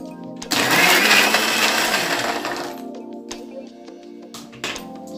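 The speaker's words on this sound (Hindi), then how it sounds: "इसके बाद हम इसको ग्राइंड कर लेंगे।" An electric blender grinding cashews and almonds for a banana shake, starting abruptly with a loud rattling whir that slowly eases and dies away, followed by a few clinks and knocks of the jar.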